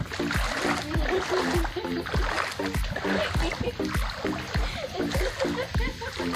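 Several people wade across a river in the countryside, feet splashing and churning the water in a steady, rhythmic series of heavy sloshes, close by and fairly loud, with faint voices now and then.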